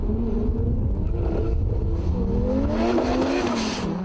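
A turbocharged car accelerating hard in a drag race, its engine note rising steadily and staying loud and close the whole time, with no talk over it.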